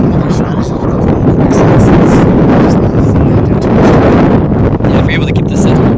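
Strong wind buffets the microphone at an outdoor spikeball tournament final in San Francisco, a loud, constant rumbling roar under commentators' voices.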